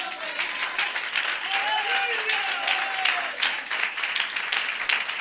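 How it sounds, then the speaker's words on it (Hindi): A church congregation claps during a live Sunday sermon, a dense, continuous patter of applause with voices and cheering mixed through it. "आपकी तालियों में दम नहीं है।"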